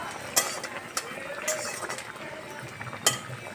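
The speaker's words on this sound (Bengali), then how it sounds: "এবারে পেঁয়াজ বাটাটা সরি পেঁয়াজ কুচিটা এবার একটু ভালো করে নেড়ে নেবো" Chopped onion being stirred in a pan, with a few sharp clinks of a spatula against the metal and soft scraping in between, close by and fairly quiet.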